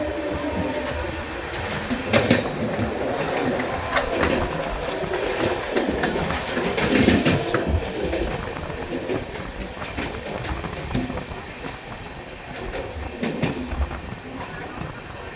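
A Ghaziabad–Delhi passenger train in India runs on its rails with a steady, loud rumble, rhythmic wheel clatter and bursts of metallic squeal that go on throughout.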